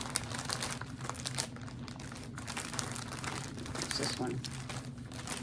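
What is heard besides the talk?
crinkling of plastic packaging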